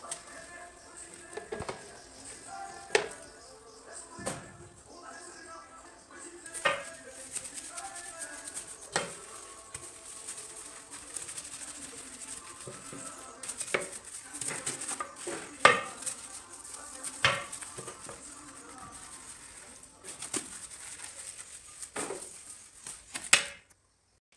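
Dishes are washed by hand in a home kitchen sink: dishes, pots and cutlery clink and knock intermittently, with light splashing and scrubbing. It is fairly faint, and someone talks over much of it.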